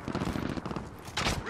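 Bursts of rapid automatic gunfire in a Call of Duty: Modern Warfare team deathmatch on the snowy Arklov Peak map, dense overlapping shots with a louder burst near the end, mixed with game voice chatter.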